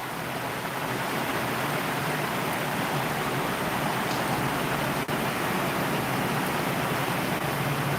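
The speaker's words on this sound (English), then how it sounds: "I put it on the pool so you can see how strong the rain is at the moment." Heavy tropical rain pouring onto a swimming pool in Valencia, Philippines, a loud, dense, unbroken hiss of downpour lasting the whole stretch with no voices.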